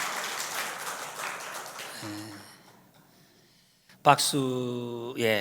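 Church congregation clapping together during a Korean thanksgiving service, a dense round of applause that fades to near silence before voices rise loudly.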